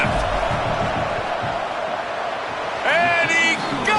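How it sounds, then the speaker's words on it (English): Steady roar of a stadium crowd in a college football video game during a tense field goal attempt, broad and continuous, swelling near the end, with a commentator speaking over it. "The crowd's going crazy, willing you to miss this kick"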